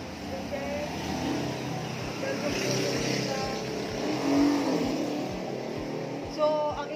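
Steady road traffic passes a house fronting a busy street, with a continuous broadband wash of engines and tyres, a louder vehicle swelling by near the middle, and a brief voice briefly heard over it.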